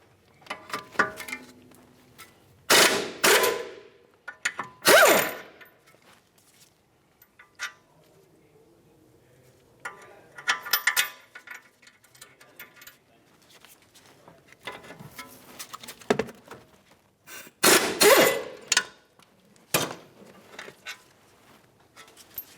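Two 18mm caliper bracket bolts are being worked loose on a Ford Flex steering knuckle, heard as scattered sharp bursts of metallic ratcheting and clinking separated by quiet gaps.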